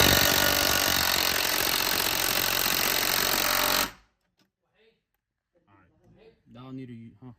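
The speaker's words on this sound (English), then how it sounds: "I'm probably gonna have to use a drill." Power drill working on a seatbelt bolt of a 2016 Chrysler 300, a loud, steady buzzing whir that runs continuously for about four seconds and then cuts off abruptly, followed by near silence and brief talking.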